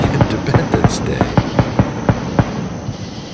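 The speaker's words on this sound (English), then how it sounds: "taped the sound of the local fireworks celebrating Independence Day" Local Independence Day fireworks recorded from a home deck crackle in a rapid, evenly spaced string of sharp bangs that trail off into quieter background noise.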